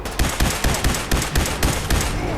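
Rapid automatic gunfire from Fallout 4 rattles off in a steady rhythm of about a dozen loud, close shots in quick succession, with no talking.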